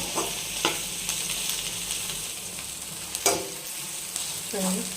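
Ivy gourd (dondakaya) pieces fry and get stirred in a pan, with a steady soft sizzle broken by a few sharp scraping stirs of the spoon against the pan.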